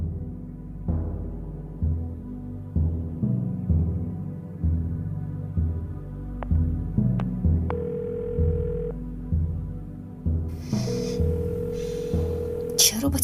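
A telephone goes unanswered, its low throbbing ring tone pulsing in a regular repeated pattern, interrupted later by a couple of clicks and a brief higher tone, while people talk over it.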